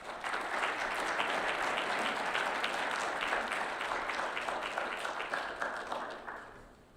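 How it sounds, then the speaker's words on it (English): An audience at a Boy Scout Eagle Court of Honor ceremony breaks into a steady round of clapping that holds for several seconds and then fades out. "Let's give them a round of applause"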